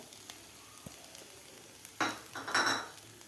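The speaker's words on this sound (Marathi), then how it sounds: "आता आपल्याला हे दोन मिनिट तुपामध्ये हे ओलं नारळ परतून घ्यायचं आहे" Grated fresh coconut is roasted in ghee, with a quiet sizzle at first, then louder scraping stirs and clatter of a spoon against the pan in short bursts.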